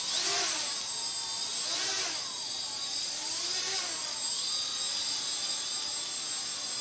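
A quadcopter drone on its first hover flight, blowing leaves, gives a loud, steady buzzing whine that rises and falls in pitch as the rotors speed up and slow down, close by and heard alone.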